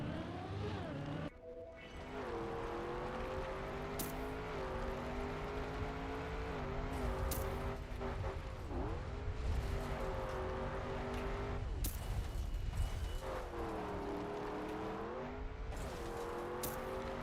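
Desert car engine in the Trackmania racing game, a steady droning motor whose pitch rises and falls with acceleration, heard continuously under people talking throughout.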